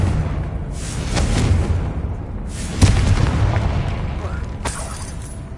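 A Confringo spell in Hogwarts Legacy fires with booming, blast-like bursts that rise over a steady rumbling game background, with a sharper thump in the middle and a fainter burst near the end.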